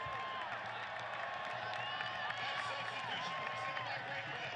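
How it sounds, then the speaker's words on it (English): A stadium crowd at Slugger Field applauds a substituted player during a USL playoff soccer match, a broad sustained wash of clapping and cheering with commentary and scattered whistle-like tones over it. "Niall McCabe will come off to a warm round of applause"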